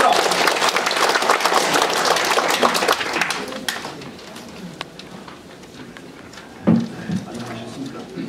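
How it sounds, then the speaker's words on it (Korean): An audience at a political lecture rally claps in a dense burst for the first few seconds, then the applause thins and fades into room noise with a few scattered sounds. "박수 부탁드립니다."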